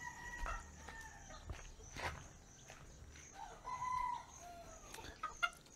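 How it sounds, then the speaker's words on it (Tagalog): Backyard chickens outside a house, with a rooster among them, give scattered clucks and short calls at close range, one louder squawk near the end, over faint ambient noise and no talk. "Sa kanyang mga chicken."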